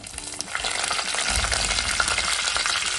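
Mustard seeds and onion popping in hot oil with curry leaves for a village-style fish curry, giving a loud, dense, continuous sizzle with rapid crackles close up.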